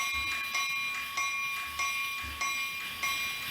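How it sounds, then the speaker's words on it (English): Tmd locomotive bell on a QJ steam locomotive in the Trainz video game, ringing in a steady repeated rhythm of clear metallic strikes, each with a sustained ring, alone and fairly loud. "Here's the bell. It's Tmd Bell."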